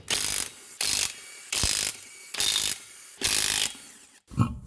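An impact gun fitted with a 21 mm socket removes the wheel lug nuts on a 2013 Hyundai Santa Fe Sport 2.0 Turbo. Five short, loud, rattling bursts come in a steady rhythm, followed by a dull thud.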